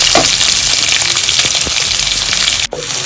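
Onion goes into hot oil already holding dried red chillies and urad dal for a black-eyed bean usli. A loud, close, continuous sizzle runs throughout and dips briefly near the end.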